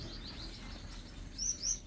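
A pet finch or canary gives two short, high chirps near the end, faint against a quiet indoor hum.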